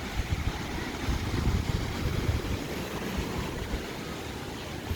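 Strong sea waves at a beach lined with cottages, a steady loud roar of surf and wind noise rumbling throughout without talk.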